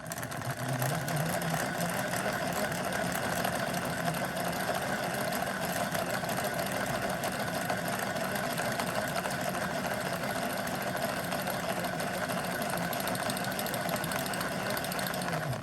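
A cone winder winds hand knit yarn for machine knitting, its motor running as a steady, dense mechanical whir and rattle that stays constant throughout, close and without talk.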